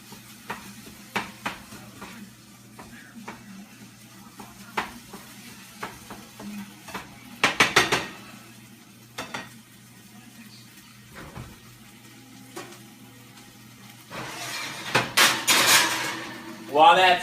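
Ground chicken sizzles in a pan, a steady low fry under scattered utensil clicks and stirring scrapes, with louder spattering bursts near the end.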